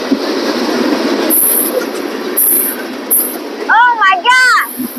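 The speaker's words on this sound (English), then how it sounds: "We got a DPU coming up." A CSX freight train with a DPU locomotive rolls past close by, a steady rumble with squealing wheels, then a sharp pitched horn-like wail near the end.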